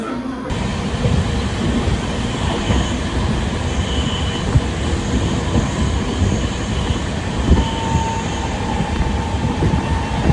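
A sleeper class train on a Delhi to Rajasthan journey rolls along, heard from inside the carriage as a loud, continuous rumble with rhythmic wheel clatter and faint metallic squeals.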